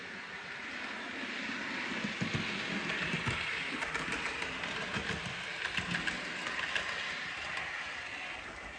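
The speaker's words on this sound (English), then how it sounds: "Go and watch some trains go by." A model railway train runs steadily on its track, a continuous mechanical rumble with faint clicking and rattling that holds at a fairly even level throughout.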